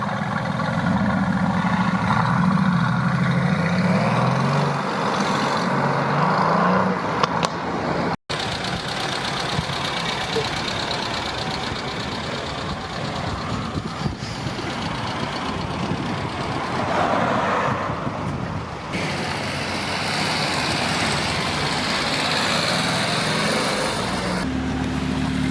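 At an outdoor German-themed car meet with Porsche, Audi, VW and BMW models, a car engine idles and revs, a steady close engine drone with a brief cut and shifting pitch, amid general background noise.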